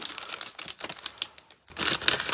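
A Temu parcel wrapped in plastic is torn and pulled open up close, giving bursts of crinkling, rustling and tearing with a brief silent pause before a louder, denser round of crackling.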